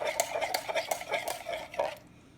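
A mocha drink mixture is stirred in a pan as it heats, giving a steady run of close scraping, clinking strokes about twice a second that stop abruptly near the end.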